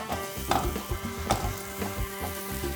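Carrots and potatoes sizzling in salad oil in a hot frying pan, a steady crackling fry with a few louder stirring clatters, close and alone.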